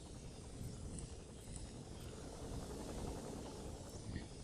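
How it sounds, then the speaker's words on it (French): A helicopter hovers very close in Metal Gear Solid V: The Phantom Pain, its steady broadband rotor and engine roar continuous and loud throughout, with faint high whines on top. "Il y a tellement l'hélicoptère ultra proche."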